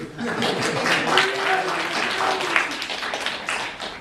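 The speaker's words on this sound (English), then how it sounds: "Give yourself a round of applause for us now," Audience applause at a library performance, a soft wash of clapping from the crowd blended with overlapping voices and cheering throughout.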